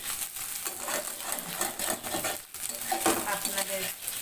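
Boiled fish fried with onion, garlic and dried chili in a home kitchen pan, giving a close, continuous sizzle broken by rhythmic scraping and stirring strokes over about four seconds.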